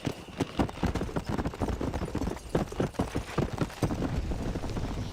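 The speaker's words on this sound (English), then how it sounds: "O cavalo, porra! Vem cá!" Horse hooves clip-clop in the Red Dead Redemption video game, a busy, close run of rapid hoofbeats with uneven rhythm continuing throughout, no speech.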